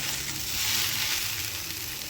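Okra sizzles and fries in a pan while being stirred, a close, steady crackling hiss that rises briefly midway, with no one talking.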